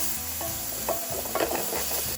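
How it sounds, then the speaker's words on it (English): Half an onion sautéing in oil in a pan, a steady close sizzle broken by scraping stirs of a utensil across the pan bottom, with no talking. "We're going to add some oil to a pan, some onions. I have half an onion here. And we're just going to saute that until the onions are translucent"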